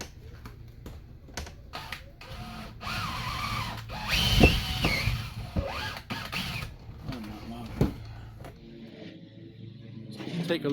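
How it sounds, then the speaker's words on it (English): A drill punches a pilot hole up through an RV ceiling for mounting a WiFi antenna, with short bursts of whirring and grinding mixed with clicks and handling clatter, peaking in the middle. "So I'm going to punch a pilot hole all the way up, come out through the ceiling"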